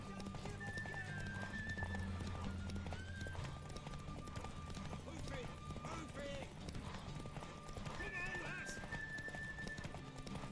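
A horse gallops in The Witcher 3 Wild Hunt with a steady rhythm of hoofbeats under game music, and whinnies and neighs break through in places.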